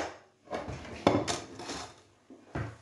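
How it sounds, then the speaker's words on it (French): Fish fillets being laid into a frying pan, a few close clattering knocks and scrapes of metal against the pan with short bursts of sizzle between quieter gaps, no voice. "Je vais les cuire à la poêle"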